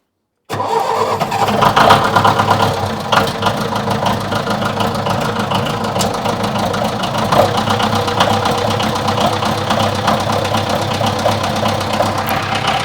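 An old engine cranks and catches after a moment of silence, then runs steadily with a loud, close, slightly knocking idle that continues throughout.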